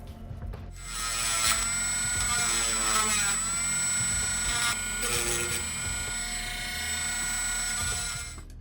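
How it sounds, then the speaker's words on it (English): Dremel rotary tool cleaning up a cutout in an FPV drone frame, a steady high whine with buzzing, chattering grinding that shifts in pitch, close and continuous. "finish it off with a Dremel to clean it up"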